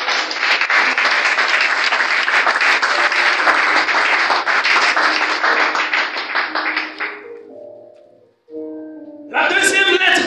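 A church congregation breaks into loud, dense applause during a service, sustained for several seconds before thinning out, followed by a few spoken words and then cheering.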